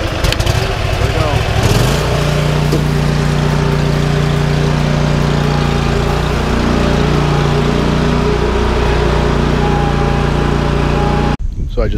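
A gas lawn mower engine runs loud and steady just after being choked, with a low droning hum that holds nearly the whole time and cuts off abruptly at the end.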